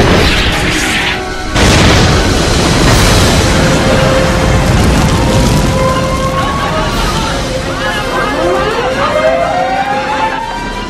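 Battle scene from the film U-571 (2000): U-boat gunfire strikes a Nazi destroyer's radio tower. Loud, dense booms and blasts mix with rising whistling sweeps, and shouted voices run throughout.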